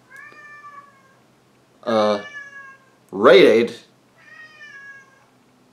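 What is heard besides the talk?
cat meowing, wanting to go out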